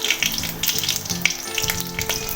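Panch phoron and a green chili sizzle and crackle in hot oil, a loud, steady frying hiss up close with a few sharp pops, and no voices.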